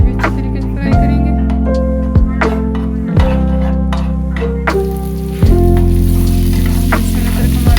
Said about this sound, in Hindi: इसे भी अच्छी तरीके से फ्राई करेंगे।